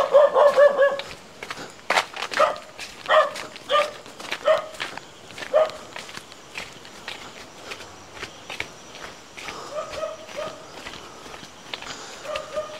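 Dogs in a village at night bark in short repeated bursts, some near and some farther off, with footsteps crunching along close by.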